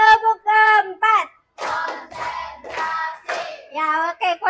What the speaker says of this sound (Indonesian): Tepuk keempat.